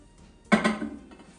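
A food container set down inside a microwave oven in a home kitchen, giving one close clatter of dish against the oven floor followed by a brief rattling settle, with no talking.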